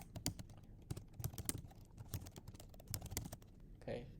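Someone types a Git commit message on a computer keyboard, irregular close clicks and clacks in quick bursts over a quiet room, with a brief faint sound at the end.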